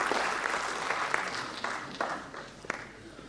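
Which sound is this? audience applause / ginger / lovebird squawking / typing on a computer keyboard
audience applause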